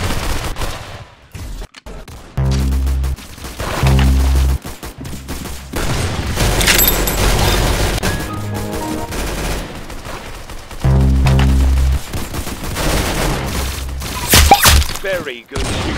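Rapid bursts of gunfire from shooting crack out in several loud clusters, mixed with heavy thumps and rattling automatic fire, with short pauses between volleys.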